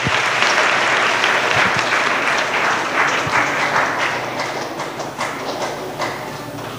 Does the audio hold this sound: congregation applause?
yes